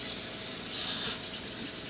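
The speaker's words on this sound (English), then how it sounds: "Okay, so I found the soap and we're washing our hands." Tap water runs in a steady, even hiss from a faucet while hands are washed at a kitchen sink before seasoning ribeye steak and shrimp for grilling, with no talking.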